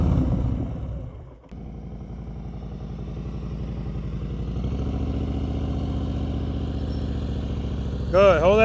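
A motorcycle idling and rolling through slow-speed practice turns, its mid-pitched engine steady and close, dipping briefly and then rising, with a voice briefly speaking near the end.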